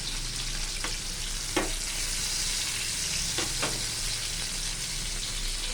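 Pork and tomato chili paste being stir-fried in a pan, a constant close sizzle with several scraping spatula strokes spread through it, fairly even in loudness and without any talking.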